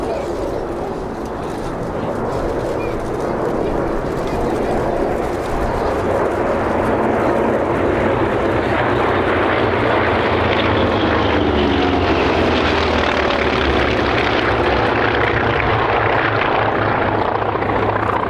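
Navy fighter planes, a Bearcat, a Wildcat and three Corsairs, pass over Sywell Aerodrome at an airshow with a loud, continuous propeller-engine roar that swells and shifts in pitch as the formation flies by.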